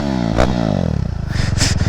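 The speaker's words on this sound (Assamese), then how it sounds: "এইখিনিতে চাউণ্ডটো শুনাই দিছোঁ বাইকখনৰ এটা এগজটো খুলি থোৱা আছেতো" A KTM RC390 motorcycle engine runs with its exhaust removed. It sounds loud and close: an open, raspy idle with blips of revving, then a choppy, pulsing rumble that builds again.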